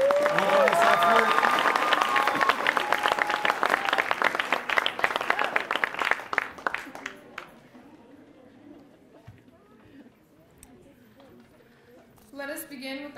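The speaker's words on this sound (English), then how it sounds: "can we give a big round of applause for Miss Julie Casper for all this effort?" An audience at a Catalina Magnet High School readings and digital stories event applauds in a thick, loud burst of clapping that gradually thins out and fades to near quiet after about seven seconds.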